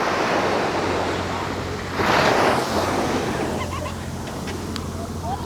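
Sea waves washing ashore at Dhanushkodi beach, a broad continuous surf roar with one surge swelling midway, mixed with wind buffeting close to the microphone.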